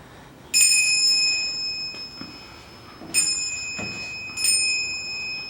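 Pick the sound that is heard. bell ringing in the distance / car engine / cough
bell ringing in the distance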